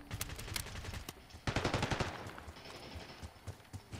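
Rapid bursts of automatic gunfire from a Call of Duty Black Ops 6 beta multiplayer match, loud, dense volleys that cluster heavily mid-clip and then continue in sparser shots.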